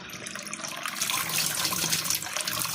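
Muddy water gushes from a freshly opened household tap, a steady splashing rush that swells after the first moment and keeps running loud and close.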